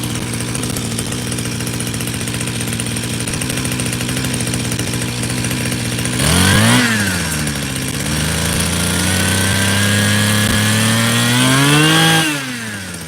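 A newly acquired engine, running on the wrong fuel yet without smoking or leaking, drones steadily and loudly for the whole stretch, its pitch dipping and rising twice as the speed shifts, with no talk over it.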